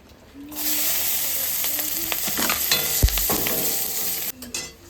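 Garlic and radhuni tempering spices dropped into hot leftover fish-frying oil burst into a loud, steady sizzle with crackles and scraping stirs, then cut off abruptly near the end.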